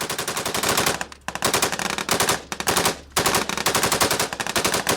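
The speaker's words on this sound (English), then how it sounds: "Hey, stop firing." Machine gun fire during combat in Afghanistan with British Pathfinders: loud, close sustained automatic bursts, rapid and dense, broken by two brief pauses before firing resumes.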